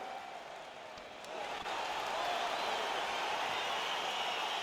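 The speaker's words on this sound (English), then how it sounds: "crowd getting excited as this fight gets underway" Crowd noise at an MMA fight swelling as the bout begins, a broad roar of voices and cheering that grows louder and holds steady, heard from within the arena.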